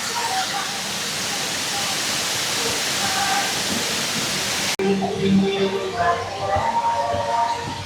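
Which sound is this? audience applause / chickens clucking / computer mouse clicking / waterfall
waterfall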